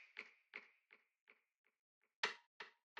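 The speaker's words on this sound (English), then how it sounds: "I have this snap over here" A snap sample from a drum arrangement, struck eight times in a steady rhythm that fades over the first five hits, then a louder snap followed by two more, crisp and close with no voices.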